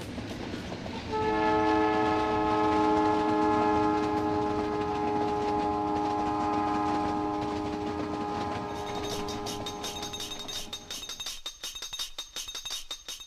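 Palace on Wheels luxury train in India sounding a long chorded horn blast for several seconds, then rattling past with rhythmic clattering and squeal as the horn fades.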